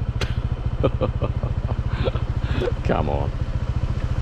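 A motorcycle ridden along a boggy trail, its engine thumping in a steady, close, pulsing rhythm throughout, with someone talking briefly over it.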